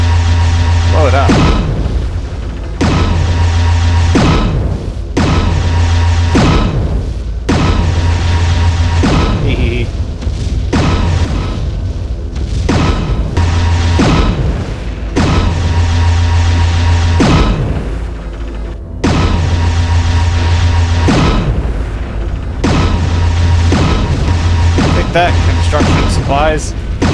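Targets are blown up in the MechWarrior 3 mech combat game: repeated heavy booms and thudding explosions every second or so, loud and close over a steady low mechanical hum, with sharp metallic hits between them.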